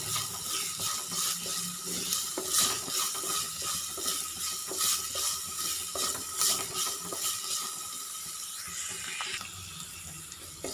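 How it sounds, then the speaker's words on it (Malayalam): Ginger is sautéed in a pan until brown for puli inji, with a low sizzle under repeated rhythmic scraping and stirring of a spoon against the pan, close and fairly quiet. "ഒരു ബ്രൗൺ കളർ ആവുന്നത് വരെ നന്നായിട്ട് വഴറ്റി കൊടുക്കണേ ഇതുപോലെ നന്നായിട്ട് വഴറ്റി കൊടുക്കാം"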